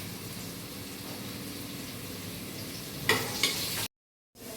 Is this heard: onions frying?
yes